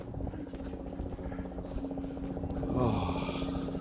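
On a winter walk through Toronto's High Park, a helicopter passes overhead as a steady, distant droning hum while a person talks over it.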